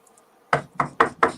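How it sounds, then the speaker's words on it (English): Four sharp knocks on wood in a quick, evenly spaced rhythm, close and crisp, with no one talking over them. "Knock on wood."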